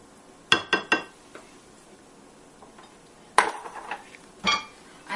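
A spoon stirring dosa batter with a pinch of sugar in a bowl: a few sharp clinks against the bowl in quick clusters, separated by quiet stretches.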